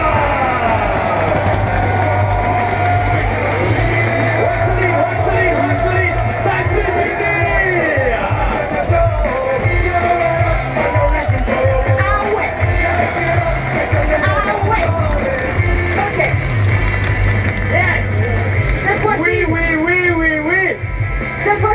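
A large live-show crowd at a Nitro Circus freestyle motocross event in Tours roars and cheers continuously for the French team, loud and dense throughout, with an announcer's amplified voice over the noise.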